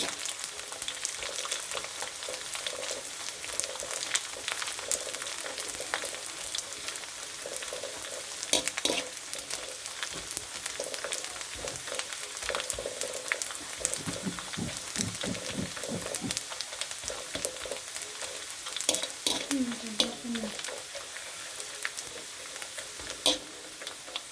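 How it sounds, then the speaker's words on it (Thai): Cooled pork cracklings frying and puffing in hot rendered pork lard, a long steady crackling sizzle with scattered pops and occasional utensil stirring, close and without talk. "ตั้งไฟให้ร้อนแล้วก็ใส่กากหมูที่เย็นแล้วลงไป กากหมูก็จะพองตัวนะคะ"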